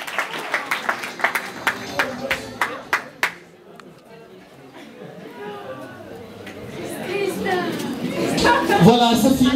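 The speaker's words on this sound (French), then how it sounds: "Voilà, applaudissez pour Krista Dushime." A short burst of rhythmic clapping at an awards ceremony, a dozen or so claps, gives way to a rising murmur of crowd chatter and voices filling the room.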